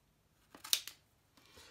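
Veggie shears snipping through vegetables, a few quick crisp cuts close by, with short gaps and a couple of faint clips at the end.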